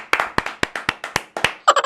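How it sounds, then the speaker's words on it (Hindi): Claps from a village Republic Day comedy gathering in India, about nine sharp hand claps in a steady, slightly uneven rhythm, close and fairly loud, ending in a quicker flurry. "सभी लोग तालियां बजाएं"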